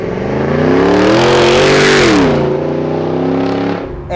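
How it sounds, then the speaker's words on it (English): A Ford Raptor pickup with a Corsa exhaust revs up loudly and close, the engine note rising, holding and then easing back down, with no talk. "So here's what the Corsa exhaust sounds like."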